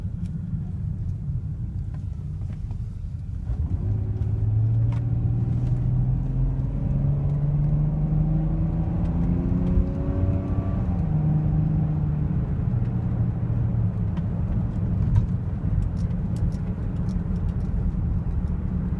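A car accelerates hard up to redline, the engine note climbing steadily through a gear shift before rising again, loud and close with a continuous rumble, no talking.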